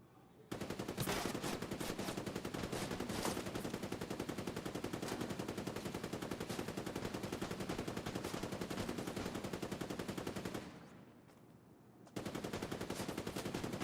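Sustained automatic turret gunfire in a video game, a dense continuous rattle of rapid shots lasting most of the stretch, briefly cut off near the end before resuming, loud with no talking.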